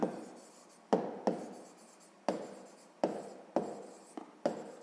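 Pen strokes on paper while a sixth-grade math solution is written out, sharp taps and short scratchy scrawls recurring in irregular bursts, quiet and close with no talking.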